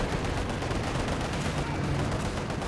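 A dense, continuous roar of artillery barrage and rapid gunfire from the World War II strategy game Company of Heroes 2, with overlapping blasts and no pauses.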